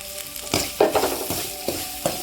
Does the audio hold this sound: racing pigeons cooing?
no